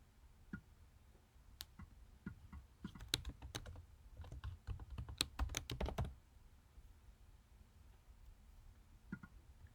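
Quiet typing on a computer keyboard: scattered single key clicks that speed up into a quick, uneven burst of keystrokes, then slow back to a few isolated taps in a quiet room.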